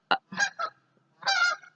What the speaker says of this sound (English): loud geese.